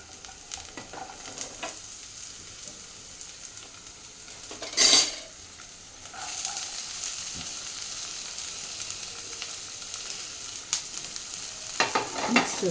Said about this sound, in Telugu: ఇవన్నీ వెజిటేబుల్స్ ఇప్పుడు వేసేసుకుంటానండి. క్యాబేజ్, క్యారెట్, క్యాప్సికము, ఇంకా బీన్స్.